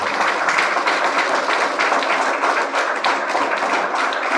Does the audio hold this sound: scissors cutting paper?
no